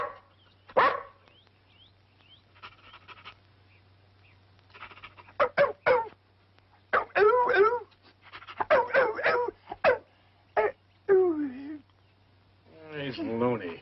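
A dog in an old film whimpers and yips in a string of short high-pitched bursts, with a few small barks mixed in and a faint steady hum underneath.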